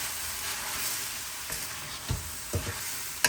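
Chicken stir fry with dark soy and oyster sauce sizzles steadily while a utensil stirs it, giving a few distinct scraping knocks against the pan near the end.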